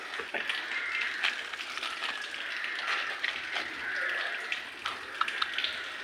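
Water poured into a cooking pot with a little salt to boil vegetables, a steady splashing pour close by that runs on for several seconds with small surges and drips.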